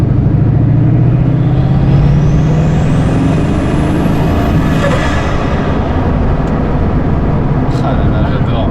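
A Bugatti sports car engine lifts off the throttle on a wine-country road, a loud roar dropping away into a rushing decay with a rising whine; someone talks over it.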